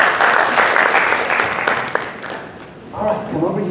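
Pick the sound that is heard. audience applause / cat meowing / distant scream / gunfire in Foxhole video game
audience applause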